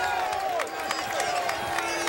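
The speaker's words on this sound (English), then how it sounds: "Crowd getting into it again." Basketball arena crowd cheering and clapping during a men's college game, a steady roar with scattered claps under faint commentary.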